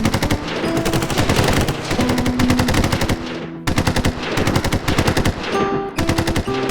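Battle sound effect of sustained machine gun fire in a museum presentation: loud, rapid bursts of automatic shots rattle continuously, with a short pause midway before firing resumes, all without speech.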